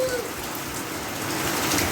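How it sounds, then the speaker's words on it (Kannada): Heavy rain pours steadily during a thunderstorm, a dense continuous hiss of drops on surfaces filling the scene with no break. "ಮಳೆ ಬರ್ತಾ ಇದೆ"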